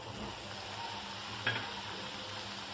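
Medium poha (flattened rice) frying in hot ghee, stirred with a spoon, giving a low steady sizzle with a single brief scrape against the pan, quiet and without talk.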